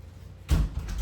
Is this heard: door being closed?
yes